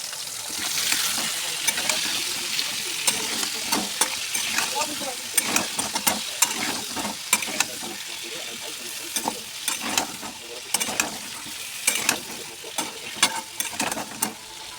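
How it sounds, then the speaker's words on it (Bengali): Potatoes sizzle in hot oil while being turned in the pan, a continuous close crackle dotted with frequent sharp spoon scrapes and clacks against the metal throughout. "আলুটা একটু লাল করে ভেজে নেব"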